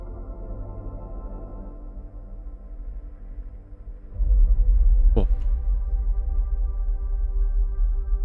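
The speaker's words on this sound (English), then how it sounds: "Distant explosions." Low rumbling space ambience with a deep droning hum and a sudden deep boom swelling in midway, like far-off explosions, steady and spooky with no voices.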